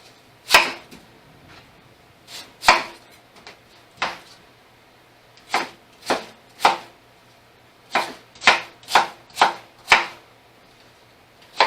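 Knife chopping a regular white onion on a cutting board, sharp distinct thuds spaced irregularly, some in quick clusters, close and clear in a quiet kitchen.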